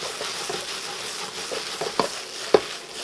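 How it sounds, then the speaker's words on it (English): Zucchini stir-fried with chicken in a hot pan, a steady soft sizzle broken by a few stirring scrapes and taps, close and moderately quiet, with no voices. "now we're going to take our zucchini, throw them in."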